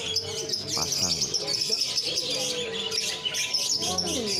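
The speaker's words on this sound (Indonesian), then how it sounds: "ada burung lovebird" Lovebirds, a pair among many caged birds at a crowded bird market in Sumenep, Madura, chirp in a busy stream of high tweets mixed with other birdsong, with people talking throughout.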